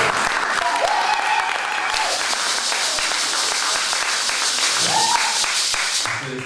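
A church congregation applauding in acclamation of the Lord: sustained, dense clapping from many hands throughout, with a voice and cheers faintly woven in.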